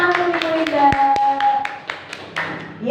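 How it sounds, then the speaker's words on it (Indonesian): A short round of scattered hand clapping for a teacher at a school session, a few people tapping out uneven claps under a steady tone and background talk. "Tepuk tangan untuk Bu Linda"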